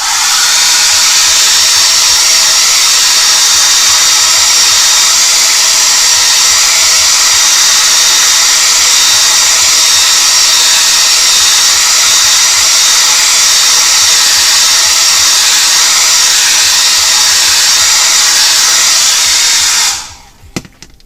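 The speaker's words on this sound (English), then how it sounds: "So I'm just going to blow dry that." A hair dryer blows continuously on wet paint on a canvas, a loud steady close whoosh and whine that runs unbroken, then cuts off abruptly near the end.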